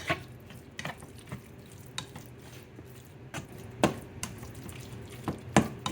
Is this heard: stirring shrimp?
yes